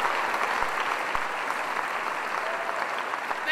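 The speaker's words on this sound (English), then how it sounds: "You can clap for them." A gala audience at a formal evening address applauds steadily, a dense, even wash of clapping from many hands that holds throughout without letting up.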